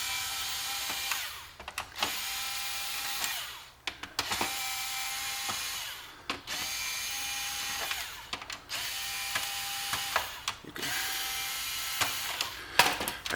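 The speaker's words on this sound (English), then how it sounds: "Small handheld electric screwdriver." A small handheld electric screwdriver backs out mounting screws on a 3U rack server, whirring in repeated bursts of a few seconds each, broken by brief pauses between screws, close and steady.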